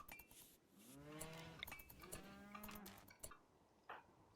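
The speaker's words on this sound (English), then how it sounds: "Looks like the cows have almost nothing to eat." Cattle lowing in the RimWorld colony sim, several drawn-out moos overlapping in a steady rising-and-falling chorus, with faint clinks in the background and no talk.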